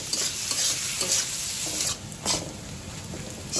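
Onions with green chillies sizzle in a hot pan, stirred with a spatula in repeated scraping sweeps over a continuous close frying hiss.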